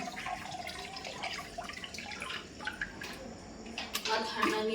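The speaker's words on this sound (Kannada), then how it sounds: "ಸಮ್ಮು ನೀರು ತುಂಬಲಾಗತ್ತಳ ಕೂಲರಿಗೆ" Water is poured into an air cooler, a faint splashing trickle with a few irregular drips that runs low in the mix and grows a little stronger toward the end.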